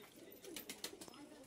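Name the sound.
pigeons cooing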